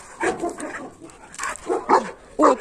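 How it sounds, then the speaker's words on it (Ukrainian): A black German Shepherd dog gives several short, close barks and whimpering yips in an uneven rhythm, each one sharp and separate, with no voices in between. "Ти даже гавкнула."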